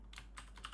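Typing on a computer keyboard while entering text into a word processor dialogue field, a few soft, quiet keystrokes in short bursts over a steady low hum.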